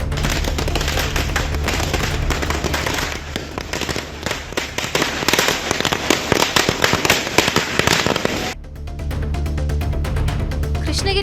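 Firecrackers bursting in dense rapid volleys at a street celebration near a Kashi Vishwanathar temple, loud and continuous crackling for about eight seconds before dropping to scattered pops.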